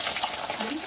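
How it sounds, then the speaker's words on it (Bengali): Koi fish fry gently in oil over a low gas flame, giving a steady soft sizzle and faint bubbling, close and continuous for under a second. "একদম আস্তে আস্তে ভাজি।"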